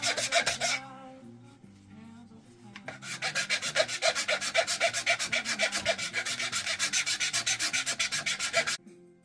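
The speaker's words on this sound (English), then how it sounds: "This will be my buffing wheel." A wooden spoon-carving knife is worked against a buffing wheel in quick, rhythmic rasping strokes that repeat steadily for several seconds over soft background music.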